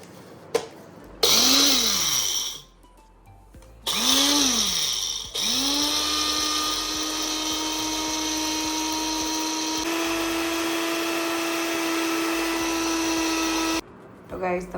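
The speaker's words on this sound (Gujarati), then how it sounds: "આવી રીતે જીરું ઠંડુ થઈ જાય એટલે મિક્સર જારમાં લઈને પછી એને બ્લેન્ડ કરી દેવાનું છે." An electric mixer grinder blends cooled cumin seeds in its jar. It whines in two short pulses that spin up and die away, then runs in one long, loud, steady burst before cutting off.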